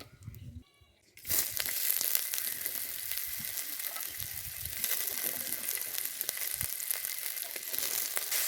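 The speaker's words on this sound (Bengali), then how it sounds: "কাঁচকলা ভর্তাটা বানানোর জন্য আমি পেঁয়াজ লঙ্কা রসুন ভেজে নেব।" Onion, chilli and garlic frying in a pan for a green banana mash, a steady loud sizzle starting after a quiet second and continuing throughout with scattered crackles.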